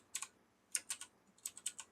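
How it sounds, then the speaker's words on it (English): One-handed typing on a computer keyboard during a Slime Rancher session, heard as three quick clusters of sharp key clicks with short pauses between, close and fairly quiet, with no talking. "one hand typing"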